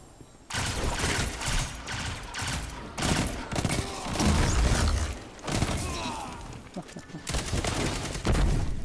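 Rapid bursts of video game gunfire crackle loudly and almost continuously, volleys stacking into a dense fusillade with short gaps, the shots close and harsh.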